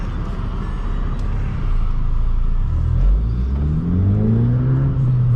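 A car with a PowerMetric stage 1 tune accelerates hard, heard from inside the cabin. A deep, steady engine rumble rises into a climbing rev tone that sweeps upward through the gears, loud and close.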